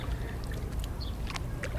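A small boat engine runs steadily on water, a continuous low rumble with faint splashing and trickling on top and no pause.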